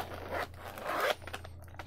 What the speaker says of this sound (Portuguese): é só a gente abrir aqui o zíper